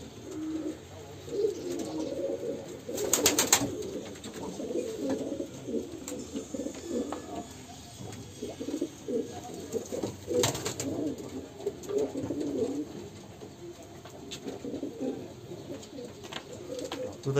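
Pigeons coo repeatedly inside a coop, low, soft and overlapping, with a couple of brief sharp clatters of wings or movement.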